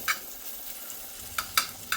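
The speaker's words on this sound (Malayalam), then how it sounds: "അപ്പോൾ കുറച്ച് നെയ്യിൽ നമുക്കിതൊന്ന് മുപ്പിച്ചെടുക്കാം" Ingredients roasting in ghee in a pan for karkidakam kanji, a low steady sizzle with a few quick scraping strokes of stirring, close and clear, with no talking.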